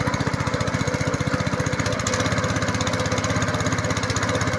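A homemade house generator engine runs steadily as its throttle is raised slightly, giving a loud, close, even chugging drone that deepens a little partway through, with no talking.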